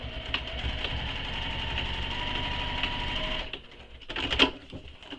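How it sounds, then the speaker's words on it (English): A home sewing machine runs steadily through a backpack seam, its rapid stitching whir close and continuous before stopping, followed by a few soft handling clicks and fabric rustles. "And I do back stitch a bit just to give some extra security."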